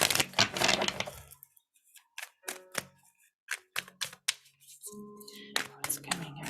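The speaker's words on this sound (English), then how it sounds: "while I shuffle these cards" Close, crisp flicks and riffles of tarot cards being shuffled, coming in irregular bursts with quiet gaps between them.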